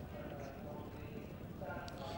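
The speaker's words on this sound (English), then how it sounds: "hampered by the loose horse there, but goes on again on the inside, Canny Danny" Racehorses galloping over the water jump in the 1984 Hennessy Cognac Gold Cup steeplechase, a dense, steady rumble of hoofbeats from a large field heard at a distance beneath a race commentator's continuous talk.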